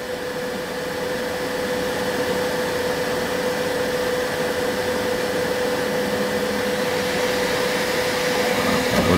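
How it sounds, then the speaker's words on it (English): A BambuLab X1 3D printer's part cooler fan runs steadily, a loud, close, continuous whir with a constant tone and no breaks. "Now the part cooler fan turned on to clean the nozzle again."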